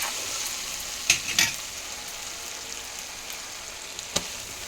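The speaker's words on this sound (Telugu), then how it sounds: "అల్లం వెల్లుల్లి పేస్ట్ వేస్తాను." Ginger garlic paste fries in a pan, giving a faint, steady sizzle with a few sharp scrapes or clicks from stirring scattered through it.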